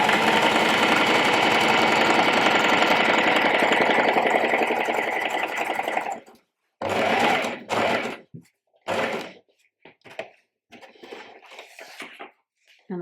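A sewing machine runs a long steady stretch of stitching for gather lines on a ruffle, then stops and restarts in several short bursts, close and fairly loud with no talk.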